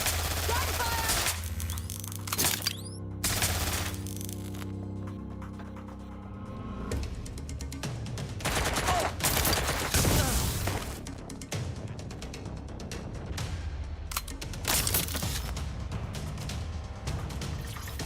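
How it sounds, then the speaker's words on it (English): Gunfire in the video game Watch Dogs: Legion, with bursts of automatic shots and loud cracks, crashes and mechanical clatter mixed with sustained tones and voices talking. "Officer's been hit. Gunfire."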